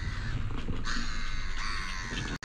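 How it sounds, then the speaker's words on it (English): Crows cawing repeatedly outdoors near an opening bridge on a cold morning, with several birds calling at once in a steady, fairly loud chorus that ends with a brief cutout. "look at all those little birds"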